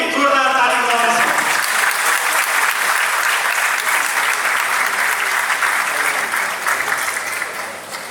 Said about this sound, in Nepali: हामी एकचोटि उहाँलाई फेरि जोरदार ताली बजाउनेछौँ